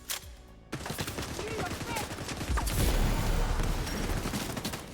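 Sustained rapid LMG fire in The Division 2 video game, a loud, dense stream of shots that starts abruptly and continues without pause, with someone talking over it.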